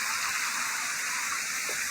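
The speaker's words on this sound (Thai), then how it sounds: "น้ำตกอยู่ข้างบนนะแต่ลอดช่องมา" A waterfall at Tham Lek, Thailand, flows down through a gap in the rock, giving a loud, dense and constant rushing wash of water with no break.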